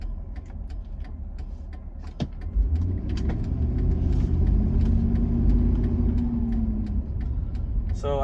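A 2000 GMC Yukon XL 2500 accelerates from inside the cab, its engine swelling into a loud, deep rising rumble after a quieter idle, with a steadily climbing tone as speed builds.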